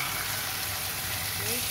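Chicken frying in a pan with turmeric, a dense, continuous hiss of sizzling oil, close and steady throughout.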